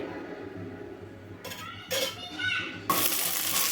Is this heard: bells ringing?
no